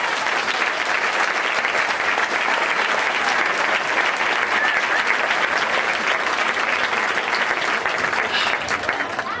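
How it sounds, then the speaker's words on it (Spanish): A dense crowd applauds during the pregón at the Casarabonela fair in Spain, a thick, unbroken roar of many hands clapping, loud and even from start to finish. "Y ahora te voy a pedir un aplauso."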